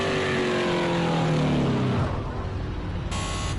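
A race car engine in the racing video game Project Cars 2 revs loud and continuous, pitch rising and then dropping as gears shift, with no voices over it.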